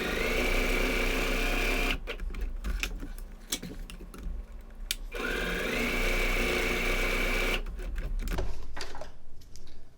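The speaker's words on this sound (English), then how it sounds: "First sewing we'll do is just running a straight stitch across the top." A sewing machine runs a straight stitch across the top of a bike seat bag, with a steady motor whir for about two seconds, then a gap of small handling clatter, then a second, longer run.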